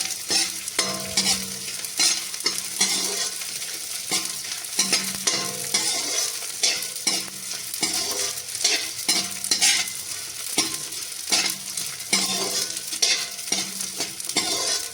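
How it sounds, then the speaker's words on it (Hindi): Edible gum (gond) frying in ghee in a kadhai for dry fruit barfi: a loud, close sizzle with a rhythmic run of spoon scrapes and knocks against the pan, continuous and with no talking. "ये है गोंद, हम इसको कढ़ाई में डालकर भून लेंगे"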